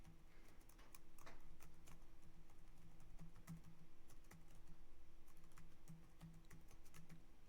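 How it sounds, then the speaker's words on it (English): Steady typing on a computer keyboard, rapid irregular key clicks with occasional louder strokes, close and quiet over a low background hum, no talk. "I'll type it in here in case you've forgotten."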